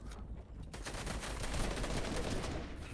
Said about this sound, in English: Shots from the high ground.